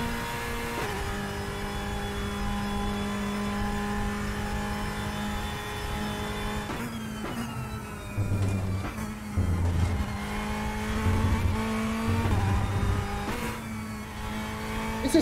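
A race car lapping a circuit in the racing game Assetto Corsa Competizione, engine droning steadily then shifting through gears with rises and drops in revs and brief tyre noise, continuous and close.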